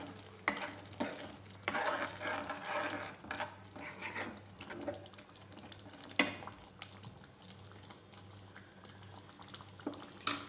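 Masala with kasuri methi and fresh coriander being stirred and fried in a pan, with steady scraping strokes over a continuous low sizzle and a few sharper clinks of the spoon against the metal.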